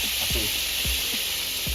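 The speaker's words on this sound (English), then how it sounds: "let's get some consomme and put it in our pan" Hot birria consomme, the beef juice and grease, hits a heated pan with a steady bright hiss of sizzling that holds throughout, while a voice speaks briefly underneath.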